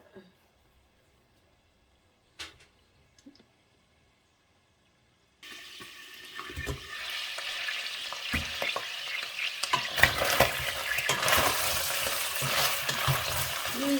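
Chicken stir-roasted in a pan until nearly dry, with near silence and a couple of faint knocks at first, then a steady close sizzle with scraping stirs that grows louder and continues to the end.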